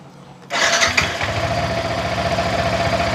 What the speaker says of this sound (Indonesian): Caranya kita hidupkan dulu motornya pakai kunci.